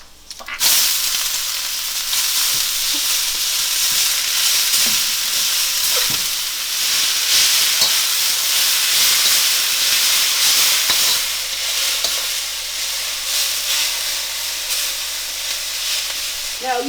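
Sliced potatoes hit a hot pan with garlic and fry in a loud, continuous sizzle and hiss, with occasional stirring clicks throughout.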